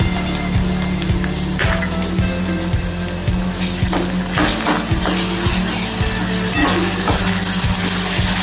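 Garlic-chili paste sizzles in a pan with browned onion for a fresh pigeon pea chutney. The frying hiss is continuous and close, with a regular scrape of stirring roughly twice a second.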